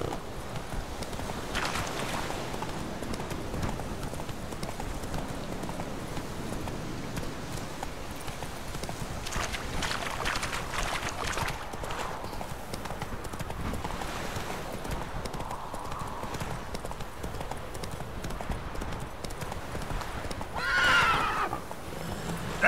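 Roach, the horse in The Witcher game, galloping with rapid rhythmic hoofbeats throughout and a loud neigh near the end, close and prominent with no talking.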